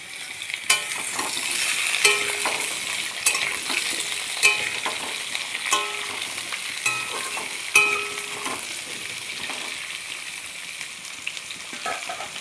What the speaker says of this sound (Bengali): এবার আলু দিয়ে দেবো। আলুটা লাল লাল করে ভাজবো।